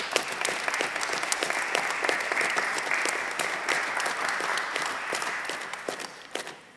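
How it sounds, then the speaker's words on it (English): A church congregation applauds warmly, a steady patter of many hands clapping at moderate volume for several seconds before tapering off near the end. "Let's give them a warm applause."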